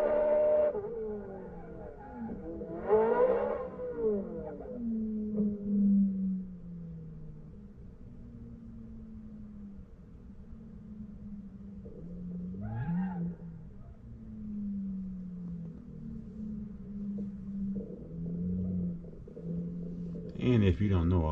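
A 2023 Corvette C8 Z06 3LZ on a test track, heard from the outside as engine roars that sweep up and down through gear changes and passes, mostly distant and moderate with a few louder bursts, no talking.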